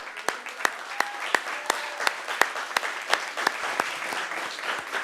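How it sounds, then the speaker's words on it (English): A city council chamber audience applauds honorees: fairly sparse, crisp individual claps rising into a steady round of moderate loudness, with some voices murmuring underneath. "Give them a big round of applause."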